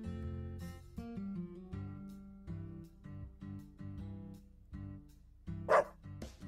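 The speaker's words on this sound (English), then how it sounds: "It's just a dog." A dog barks in the video game Deadly Premonition 2, a series of short, separate barks at an irregular pace, with one sharper yip near the end. The barking stands alone and is fairly quiet overall.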